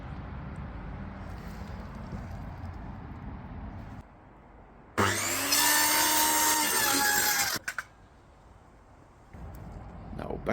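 A power tool cutting plywood to shape outdoors, a loud whining burst of about two and a half seconds that ends abruptly, with quieter rumbling background before and after.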